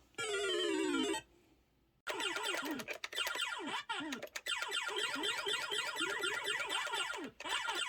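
Bright electronic Pac-Man arcade game effects: a descending synthesized sweep, a brief pause, then a dense stream of chirping, warbling blips and zaps.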